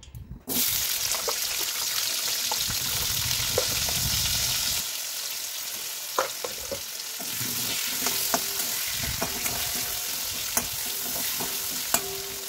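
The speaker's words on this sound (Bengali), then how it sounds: "তারপরে মাছের আলুগুলোকে ভেজে নেবো" Potatoes sizzle and crackle steadily in hot oil, with occasional clinks and scraping of a utensil stirring in the pan.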